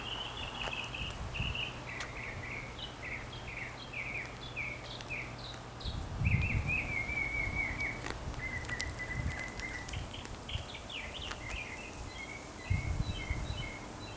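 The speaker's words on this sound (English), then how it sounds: "I'm going to see how the microphone picks up that bird, the mockingbird" A mockingbird sings on a quiet street, repeating varied chirping phrases at moderate distance over a low steady background hum, with occasional rustles and thumps nearby.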